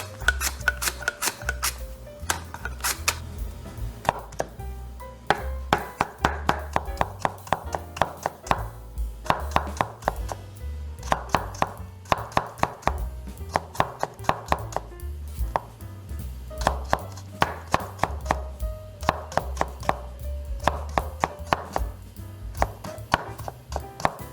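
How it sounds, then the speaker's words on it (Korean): A knife julienning carrot into thin strips on a cutting board, with fast, steady rhythmic chopping taps that sound up close and repeat in quick bursts with brief pauses between them. "당근도 조금만 채를 썹니다."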